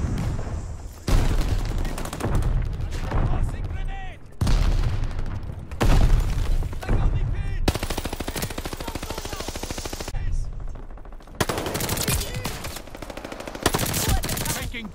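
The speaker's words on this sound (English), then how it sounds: "Tossing grenade." Call of Duty Vanguard multiplayer match with dense bursts of gunfire and several heavy booming blasts, the loud layered action continuing without a break.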